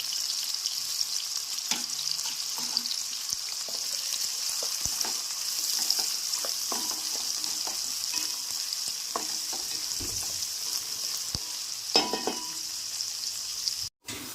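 Sliced onions and green chillies fry in hot oil for a prawn biryani, a steady close sizzle with scattered crackles and light stirring scrapes running throughout, no voices.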